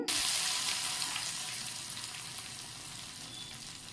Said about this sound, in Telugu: పోపు కోసం చూడండి కొద్దిగా ఎర్రగడ్డ తెల్లగడ్డ ఎండు మిరపకాయలు కరివేపాకు ఆవాలు జీలకర్ర వేసేసాను